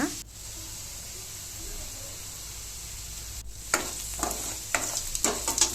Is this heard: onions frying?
yes